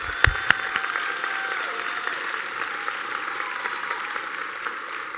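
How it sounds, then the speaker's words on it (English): An awards-ceremony audience at a college academic excellence event bursts into sustained applause, a dense, even clatter of many hands that holds steady throughout. "Please applaud one another, your colleagues and friends."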